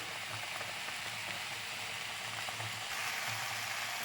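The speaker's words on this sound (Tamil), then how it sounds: "வெண்டைக்காய் பொரியலுக்கு வெண்டைக்காய் வதங்கிட்டு இருக்குது" Okra sizzles steadily as it fries in a pan, a continuous close hiss with soft periodic stirring thumps underneath.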